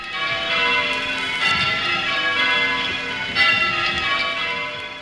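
Church bells rung by the St. Hilary bell-ringing team in 1926, a continuous, dense wash of overlapping tolls and ringing harmonics at steady loudness, somewhat distant with a hissy, old-recording texture and no talk.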